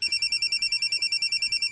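A cellphone rings with a steady, rapidly pulsing electronic tone, clear and continuous throughout, with no talking over it.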